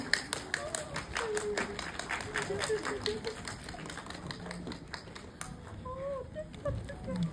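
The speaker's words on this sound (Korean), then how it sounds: "큰 박수 부탁드릴게요." Scattered audience clapping at a film screening guest-visit event, fairly quiet and uneven, with voices and murmuring mixed in.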